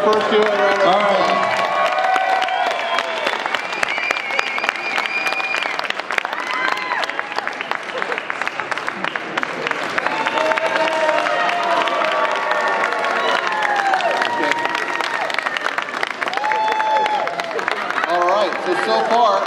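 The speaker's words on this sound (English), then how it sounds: "Let's give our first two a round of applause." A crowd at a roofing nailing contest during a roofing expo gives the competitors a long round of applause with cheering, its dense clapping continuing under voices and crowd chatter throughout.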